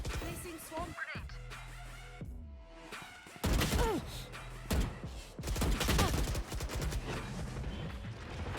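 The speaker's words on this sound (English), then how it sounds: "Placing swarm grenade." A swarm grenade goes off in Valorant with a burst of repeated sharp pops and thuds, loud against quieter game sounds and background noise.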